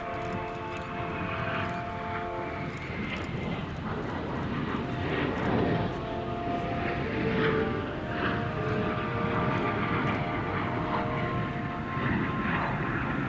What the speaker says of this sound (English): the F-22 Raptor in formation with the F-35